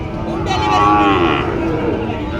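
A cow lets out a single long, loud, close moo at a busy cattle market in Joypurhat, rising and falling over a low bed of crowd noise.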